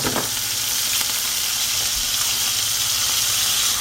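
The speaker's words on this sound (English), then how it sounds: "Let's add that shrimp. We'll add the pea pods." Shrimp and pea pods sizzling hard in hot oil in a wok, a loud, dense, continuous hiss close up with a faint knock near the start, no speech.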